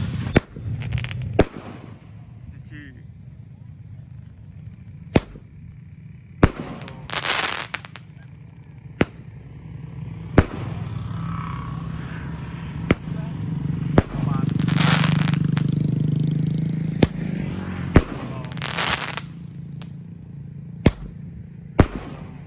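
A ten-shot Roman candle firing on a Ramadan morning: sharp, separate pops at uneven intervals with faint crackle, over a low background hum and occasional voices.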